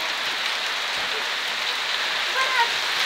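Steady rain falls in Paphos, Cyprus, a continuous broadband hiss of drops on surfaces, close and even throughout, with a faint whistle-like tone briefly near the end.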